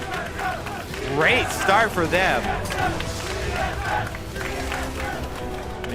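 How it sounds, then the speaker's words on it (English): A large crowd at a live League of Legends esports match cheers and chants for TSM after the team wins the first game, the roar steady throughout while a commentator talks over it. "You can hear the crowd. People always love chanting TSM."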